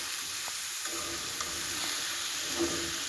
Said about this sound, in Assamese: ভালদৰে লৰাই দিব।